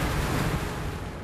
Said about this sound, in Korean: 어째 파도가 심상치 않다.